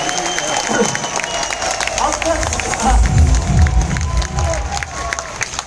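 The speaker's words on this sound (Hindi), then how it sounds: "Big round of applause for Deva Lahiri for the commitment, for the power this guy is showing" A large audience of about 3000 people at a seminar claps and cheers loudly for Deva Lahiri, a dense burst of hands and shouting with crowd babble and low rumbling underneath.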